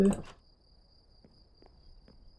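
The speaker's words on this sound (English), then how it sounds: "The ambient cricket noise happening" Faint night cricket chirping in Minecraft, a thin steady high trill running quietly through the whole stretch after a brief opening voice, with a few soft clicks.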